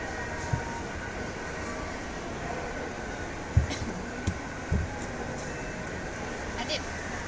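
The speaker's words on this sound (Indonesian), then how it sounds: "hari ini kita akan keliling-keliling naik kereta api" Inside a moving passenger train, a steady low rumble and hum of the carriage fills the space, with a few clanks and knocks from the wheels and couplings, and voices talking faintly.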